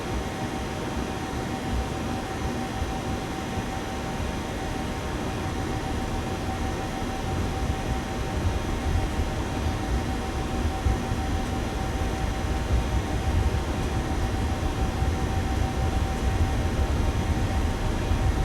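Jet engines of a ToLiss A321 in X-Plane 12 spool up for takeoff, a dense, steady roar that gradually grows louder and rougher over the whole stretch, with no other sounds on top.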